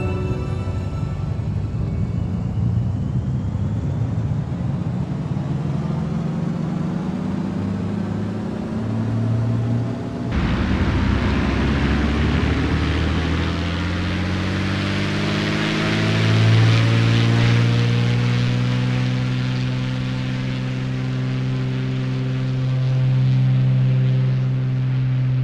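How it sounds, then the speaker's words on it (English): A Beechcraft B55 Baron's twin propeller engines run up for takeoff in the MSFS 2024 flight simulator. A steady droning roar rises in pitch and grows louder as power builds, with no talk. "I'll shut up for a minute so you can listen to the sounds on takeoff."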